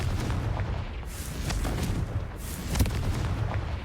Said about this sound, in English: Confringo. Blow things up.